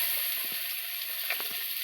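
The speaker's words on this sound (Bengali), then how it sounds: "পেস্টটা একটু ভাজা হোক" Spice paste fries in a pan for a tilapia fish curry, making a constant bright hiss with a few faint pops and soft stirring knocks.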